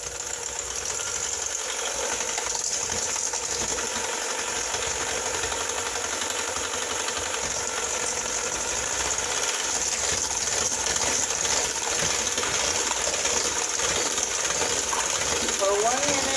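A hand mixer whirs steadily through zucchini bar batter, a continuous high buzzing motor sound held at an even level, close and uninterrupted, with no one talking.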